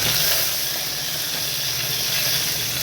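Mustard seeds, cumin, curry leaves and asafoetida crackle and sizzle in hot oil for a tempering, a steady, close, broadband hiss lasting throughout with no voices.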